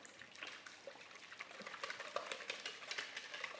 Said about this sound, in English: let's just whisk that up